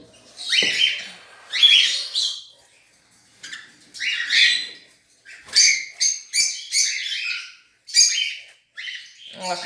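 Lutino bird chicks in a nest give repeated loud, harsh squawking begging calls in short bursts, close by with brief pauses between calls.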